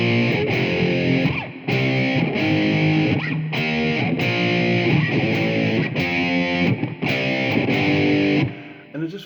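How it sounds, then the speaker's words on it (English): Chugging distorted electric guitar power chords from a riff, loud and close, played in a steady rhythmic sequence with brief gaps between strums. "So I'm going to guide you through the power chords."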